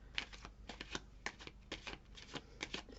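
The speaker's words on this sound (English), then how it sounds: "I'll pull us, instead of tarot, I'll pull us some little message cards" A deck of small message cards being shuffled by hand, giving a series of close, papery riffles and flicks in an uneven rhythm, with no one speaking.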